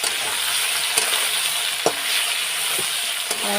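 Potatoes frying with green chillies in a pan are stirred, giving a steady close sizzle with a few soft scraping stirs spread through the few seconds.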